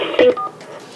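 Touch-tone keypad dialing on an office phone menu for a public defender's voicemail system: one short, clean DTMF beep, close and clear, with a faint line hiss around it.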